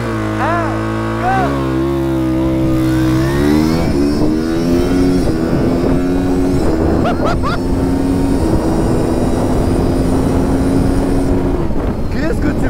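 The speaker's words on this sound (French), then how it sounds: "Je passe toutes les vitesses au rupteur." A Stark Varg electric motorcycle converted to supermoto screams loudly as it accelerates from a rolling start, revving to the rev limiter and shifting up through several gears in quick succession, with wind rush throughout.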